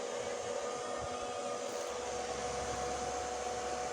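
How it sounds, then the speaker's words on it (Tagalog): A small electric fan powered over USB runs with a steady, even whirring hum that holds constant throughout, fairly quiet and alone. "Napapagana niya rin itong electric fan gamit sa USB."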